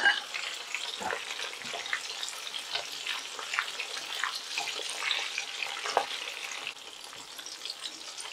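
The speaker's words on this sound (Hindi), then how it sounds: "गैस का फ्लेम हम लो मीडियम करके फ्राई करेंगे।" Fish fillets frying in oil over a low-medium gas flame, a steady soft sizzle with scattered crackles and pops throughout, close and fairly quiet, no voices.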